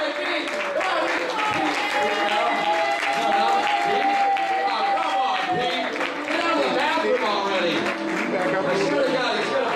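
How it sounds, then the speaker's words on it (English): Audience clapping loudly for a performer named Pete Goldie, a dense sustained wash of applause with crowd noise and voices mixed in, steady from start to finish. "if we clap really loud for Pete Goldie, he'll come and tell you great things about space"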